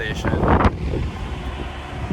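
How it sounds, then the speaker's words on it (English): Wind buffets the microphone in rough, low gusts, with a brief burst of other noise at the start, outdoors at a Tesla Supercharger station. "It's pretty windy out here."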